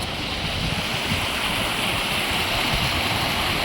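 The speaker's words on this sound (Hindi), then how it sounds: "यहाँ से नदी बह रही है" Loud, constant rush of fast-moving water, a broad roaring wash close by with no pauses and no voices.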